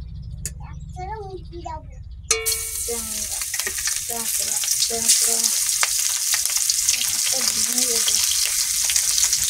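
Fish sizzles loudly in hot oil in a pan, a steady crackling hiss that swells after a sharp clatter, while someone talks over it throughout.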